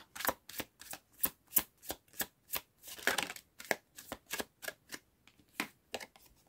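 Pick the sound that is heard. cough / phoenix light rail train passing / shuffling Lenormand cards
shuffling Lenormand cards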